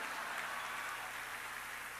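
An audience breaks into dense, steady applause during a talk, a continuous wash of clapping that stays fairly even for the brief moment it lasts.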